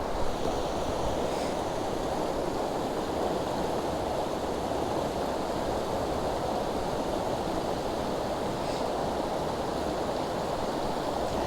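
A mountain river in the Smoky Mountains on a snowy day rushes steadily, a broad, constant roar of flowing water up close with no pauses and no voices.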